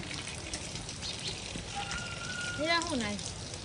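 Light drizzle falls on a dark, overcast morning as a steady soft hiss, with a short stretch of voice near the end.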